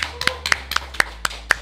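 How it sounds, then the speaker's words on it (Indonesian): Sharp, separate hand claps in a steady beat, about four per second, from a small studio audience at a finance education program; a handful of claps with no talking over them. "Tepuk tangan semuanya."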